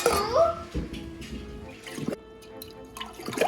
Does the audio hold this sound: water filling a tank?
yes